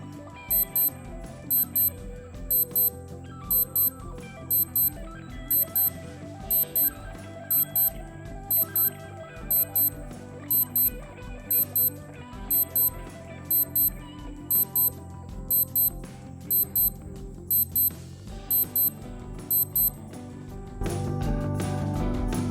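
A Skmei 1412 digital watch alarm sounds in quick, high-pitched beep clusters repeating about once a second, fairly faint over a soft musical background that fades before a brief noisy ending.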